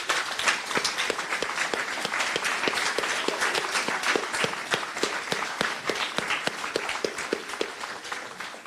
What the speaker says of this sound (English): I want them to be given a great round of applause